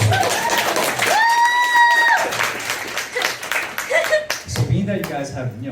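A convention panel audience claps and cheers for a few seconds, loud and close, with talking over the start and again as the applause fades.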